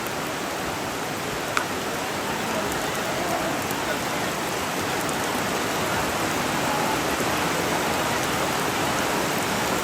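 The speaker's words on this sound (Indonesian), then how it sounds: "Hujan pertama kayak ini atau hujan kedua?" Steady, heavy rain pours down as a dense, even hiss that fills the whole stretch with no break and no voices.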